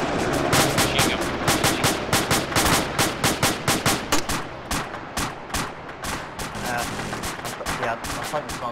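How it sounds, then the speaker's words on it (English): Rapid bursts of machine gun fire crackle in a dense, repeating rhythm, loud and close, with irregular pauses between volleys and some voices underneath. "Machine gun."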